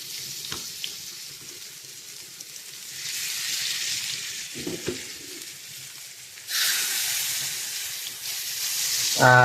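Five pieces of spiced fish frying in a pan in a small kitchen, a hissing sizzle that swells loudly partway through with a few utensil knocks, no talking.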